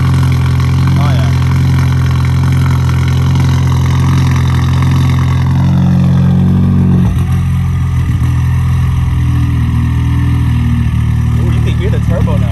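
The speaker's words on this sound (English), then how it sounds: "you can hear the turbo now" A straight-piped car engine with a turbo runs loud and close, holding a steady throaty drone, then dropping in pitch, with a people talking over it.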